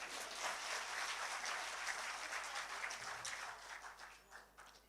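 An audience at an Independence Day poetry gathering in Ghaziabad claps, a faint, distant ripple of applause that thins out and fades toward the end.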